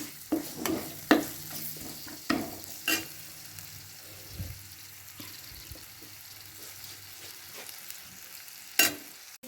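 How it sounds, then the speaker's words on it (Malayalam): Tomatoes sautéing in a pan for an egg dish, with soft steady sizzling under intermittent scraping and stirring clicks of a spoon against the pan, fairly close and moderate in level. "തക്കാളി നന്നായിട്ട് വഴന്ന് കിട്ടണം കേട്ടോ."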